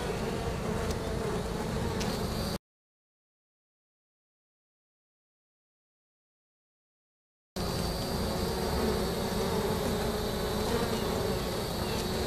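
Honey bees buzzing steadily during a hive inspection, a dense close hum that stops for several seconds of complete silence and then resumes just as thick.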